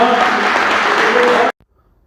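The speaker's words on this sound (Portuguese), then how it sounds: "Aplauda o Senhor." A church congregation applauds at a Portuguese-language sermon, a loud, close, dense burst of many hands clapping that cuts off abruptly after a second and a half, leaving near silence.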